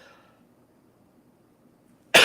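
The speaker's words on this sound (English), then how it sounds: "I'm not going to be able to catch these coughs" A single sharp, loud cough bursts out at the very end after near silence, with faint murmuring earlier.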